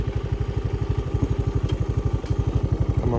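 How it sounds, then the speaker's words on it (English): An old Honda trike's engine runs close by with a rapid, even chain of thumping pulses, a steady idle-like putter with no voices over it. "I'm on my old Honda trike here."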